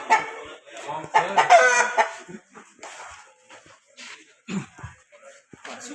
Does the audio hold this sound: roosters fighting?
yes